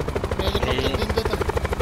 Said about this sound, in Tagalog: May helicopter dito.